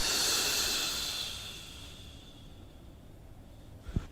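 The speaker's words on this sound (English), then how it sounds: "Just breathe in as deep as you can. And exhale." A long, deep exhale during a breathing exercise for lung function, a soft breathy hiss that fades gradually over a few seconds, followed by near silence and a small click at the end.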